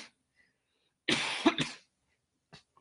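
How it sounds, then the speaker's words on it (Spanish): A single burst of coughing from a person during a podcast production session, close and fairly loud, lasting under a second, followed by a faint short throat sound and otherwise quiet. "Esto que es un accidente feliz porque de verdad me dio tos."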